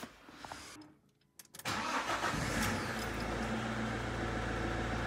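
A van engine cranks briefly after a new starter motor is fitted, then catches and settles into a steady mid-pitched idle that runs on loudly.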